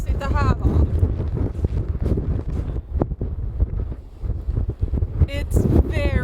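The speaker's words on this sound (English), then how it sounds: "It's very, very windy." Strong wind in a snowstorm outside a cabin on Svalbard roars and buffets the microphone continuously, loud and close, while people talk over it.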